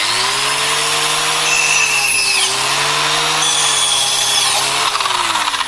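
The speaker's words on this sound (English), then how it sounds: "So let's start off with maybe a little bit of aluminium pipe in here." A Kaindle tungsten carbide blade on an angle grinder cuts through aluminium pipe, with a loud, continuous high-pitched whine and grinding rasp that dips briefly in pitch under load before picking up again.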